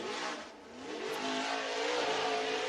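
A dirt track race car roars through a qualifying lap at North Georgia Speedway, heard fairly faint and distant as a broad, rising and falling engine rush.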